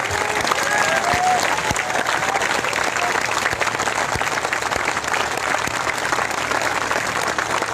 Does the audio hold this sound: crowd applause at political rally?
yes